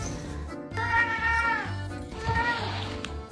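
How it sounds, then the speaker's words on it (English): A cat meows loudly and close by in two drawn-out calls, with a low purring rumble underneath between them. "Are you proud of yourself? You're purring."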